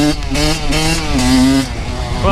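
Kawasaki KX100 dirt bike engine revving, a loud close two-stroke buzz with pitch rising and falling over a couple of seconds.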